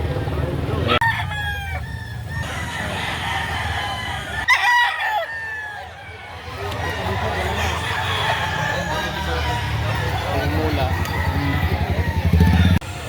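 At a small backyard flock in Lipa City, Batangas, a rooster crows twice in the foreground, with hens clucking around it and a motor humming faintly in the background.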